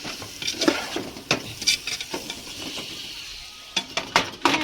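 Tomatoes frying and sizzling in a pan in a home kitchen, with a soft steady sizzle under repeated clinks and scrapes of a spoon stirring against the metal.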